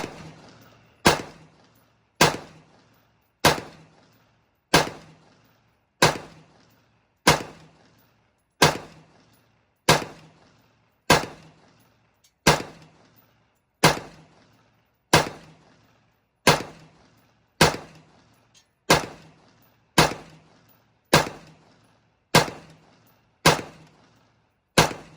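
AR-style rifle shots at a firing range crack out one after another at steady intervals of just over a second, each loud report trailing a short echo, about twenty in all, with no talk.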